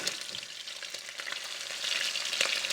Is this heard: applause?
no